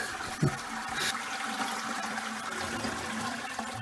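A toilet cistern with a newly fitted handle flushes, a steady rush of water running close by for several seconds after a brief clunk of the handle, with no talking.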